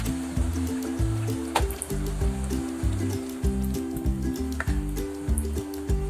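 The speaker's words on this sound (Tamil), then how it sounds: "நல்ல சடன்னு சத்தம் வருது, ஏன்னா அதில் லிக்விட் கன்சிஸ்டன்சி இருக்கிறதுனால அந்த மாதிரி சத்தம் வரும்" A thick paste of rose, orange and carrot splutters and bubbles in a pan on the stove, giving steady close wet popping and squelching with occasional sharper bursts, and no talk over it.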